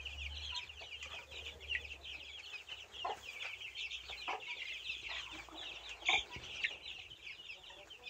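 Chicks cluck and peep softly in a steady, scattered chatter while lying in sawdust in an enclosure, with one louder squawk near the end and no talking.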